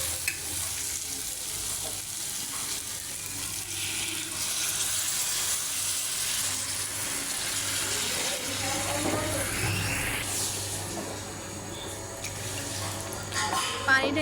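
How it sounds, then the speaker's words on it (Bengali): Water is poured into a cooking pot over sautéed taro stems in a Bangladeshi home kitchen, a steady splashing rush with sizzling and stirring noise that lasts throughout, close and fairly loud with no talk. "এখন কচুর ছড়াটা সিদ্ধ হওয়ার জন্য দিয়ে দেব পানি।"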